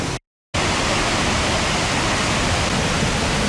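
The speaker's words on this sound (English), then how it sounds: "We're literally just following the waterfall down." Dense, continuous roar of a waterfall on New Zealand's Milford Track, loud and close, broken only by a brief silent gap at the start.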